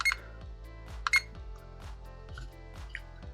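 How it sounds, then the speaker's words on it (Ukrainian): An alarm clock beeps in a quick, regular repeating pattern, close and fairly loud, with no talking. "Будильник доволі такий гучний, нормально працює"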